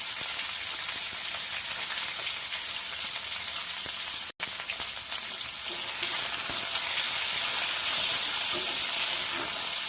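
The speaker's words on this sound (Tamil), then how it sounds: "அலசி வச்சுருக்க பிரண்டையை சுத்தம் பண்ணி வச்சுருக்க பிரண்டையை போட்டு நல்லா வதக்க வேண்டியது" Cleaned pirandai (adamant creeper) sautés in hot oil, giving a steady, bright hiss and crackle like light rain that runs throughout, with a brief dropout midway and stirring clicks, no talking.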